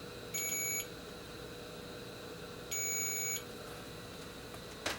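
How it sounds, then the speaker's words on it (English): A multimeter's continuity test on a circuit board trace gives two short, clear electronic beeps, each under a second, separated by a pause, over a quiet room hum. "we can finally do a quick continuity test if we're worried"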